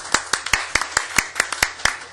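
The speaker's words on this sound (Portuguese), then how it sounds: "uma salva de palmas para ele também" Applause for a musician at a public hearing: about ten crisp, evenly spaced hand claps, close and clear, with no talk.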